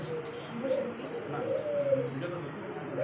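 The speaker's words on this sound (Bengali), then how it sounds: "ব্ল্যাক সিঙ্গেল একটা লাউরি কবুতর" A single black Lowri pigeon coos in soft repeated low calls, close by, over a steady background murmur.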